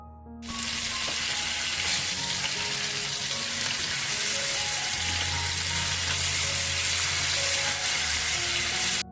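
Marinated hilsa fish frying in hot oil, a loud, dense, steady sizzle with crackling spatter that holds close and constant, briefly quieter at the start before the full hiss takes over.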